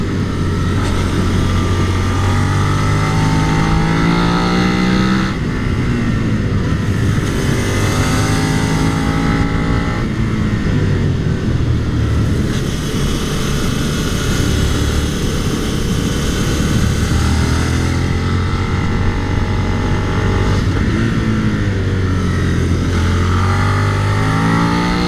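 Suzuki SV650 motorcycle engine at full throttle, a loud high-pitched scream that climbs through the revs and falls back several times, heard close and continuously, with wind noise and no talking.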